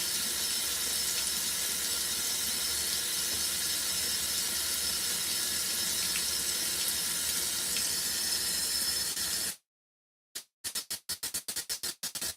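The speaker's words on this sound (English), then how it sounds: "Kind of see the water splashing in there a little bit." Water sloshes and splashes steadily inside the drum of an LG ThinQ MEGA Ultimate washing machine, a loud continuous rush for about nine seconds. It then cuts to silence, followed by a run of sharp clicks.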